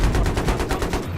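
Rapid automatic gunfire from Battlefield 3, about ten evenly spaced shots in a quick burst, loud and close, with no voices.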